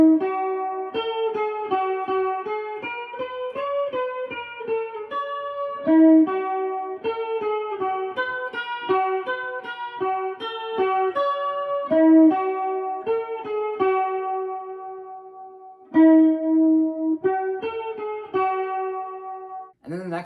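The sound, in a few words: guitar playing, full part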